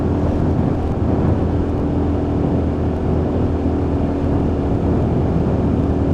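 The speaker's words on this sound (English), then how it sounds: "And obviously 5th gear, and we're pulling this up a very, very steep hill." A Lexmoto Assault motorcycle engine drones steadily in 5th gear while climbing a very steep hill in Milton Keynes, loud and continuous with wind noise.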